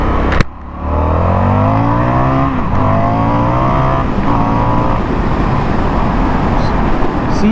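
An Indian FTR motorcycle engine revs hard from a sharp start, its pitch climbing and falling through several punchy throttle blips, loud and close with a steady roar after.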